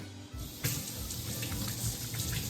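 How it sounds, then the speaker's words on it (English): A tap runs steadily into a sink for hand washing, a close, continuous rush of water that begins abruptly after a brief quieter moment and carries on with small splashy fluctuations, with no talking. "I'm even gonna wash my hands."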